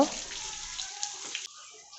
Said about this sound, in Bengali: এখন জল দিয়ে ধুয়ে দেবো আর এখানে একটা রেখে দেব